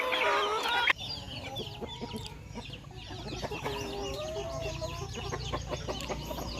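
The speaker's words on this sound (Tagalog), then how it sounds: "Sama-sama na kasi yung mga manok dito." A crowd of chickens cluck and squawk close by at feeding time, a loud burst of calls at first followed by busy overlapping clucks and scratching over a steady background hum.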